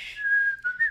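A person whistles a single sustained tone close by for about a second, wavering slightly in pitch and ending with a brief upward flick, with no talk.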